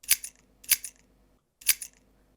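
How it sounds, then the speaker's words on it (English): A filtered key-click Foley sample from a lofi track sounds three times, each a sharp bright metallic tick with a short tail, the first two close together and the third after a brief gap, isolated and with no talking. "It's barely just a really quiet key click."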